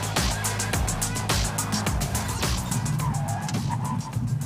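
A 2025 MINI Countryman S swerves through an obstacle avoidance test with understeer, engine noise and tyre scrubbing under a series of sharp, evenly spaced knocks as the car strikes cones.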